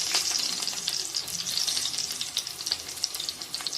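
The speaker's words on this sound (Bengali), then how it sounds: "কড়াইয়ে এরকম হালকাভাবে ভেজে নিতে হবে" Hara bhara prawn kababs shallow-fry in a little oil in a kadai, giving a continuous bright sizzle with crackling pops throughout and no talking.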